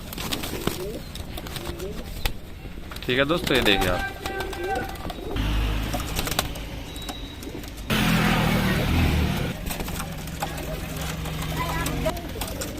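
Rampuri pigeons for sale at 300 rupees coo in low, repeated bursts close by, under someone talking and with passing road traffic.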